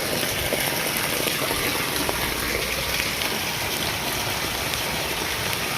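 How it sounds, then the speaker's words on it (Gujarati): Medium rain falls steadily in a village, a dense even hiss with no breaks, close and moderately loud, with no voices over it. "આ જો વરસાદ ચાલુ થઈ ગયો છે મીડિયમ"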